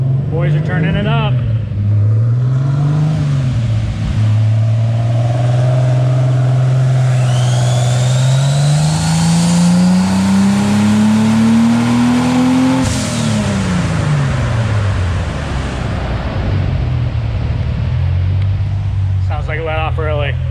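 A turbocharged BMW 635csi sleeper roars loudly during a hard pull, its engine pitch climbing steadily before dropping away as the throttle lets off early. Occupants talk over the engine near the start and end.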